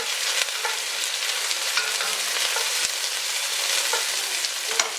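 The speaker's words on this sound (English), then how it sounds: "I've got onion and I've got garlic. We're going to hit that to stir." Onion and garlic frying in hot olive oil for a Caribbean chicken and potato curry, a dense steady sizzle with occasional stirring scrapes and crackles, close and continuous with no talking.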